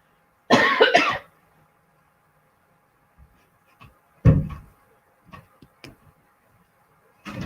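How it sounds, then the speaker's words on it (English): A person gives a loud, close cough burst, followed by a few fainter short coughs and small clicks scattered through an otherwise quiet room. "now I can feel my cough"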